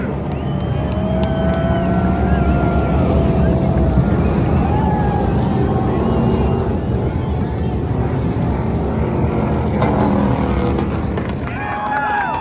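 NASCAR race cars roar around Rockingham Speedway in a loud, continuous engine drone that rises and falls as the pack passes, with wind buffeting the microphone and a voice faintly underneath.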